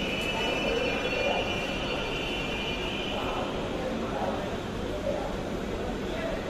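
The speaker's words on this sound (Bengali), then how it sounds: "ট্রেন মতিঝিল অভিমুখী এবং ভিড়ও আছে যথেষ্ট" Dhaka metro rail train at Karwan Bazar station, heard as a steady, fairly loud rumble with a faint high tone, under constant crowd chatter on a busy Motijheel-bound service.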